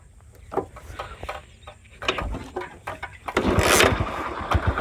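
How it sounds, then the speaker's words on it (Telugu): An old motorcycle is kicked a few times with sharp thumps, then the engine catches and runs with a loud, rough, pulsing idle. "నేను ఒక్క కిక్కే స్టార్ట్ చేస్తాను"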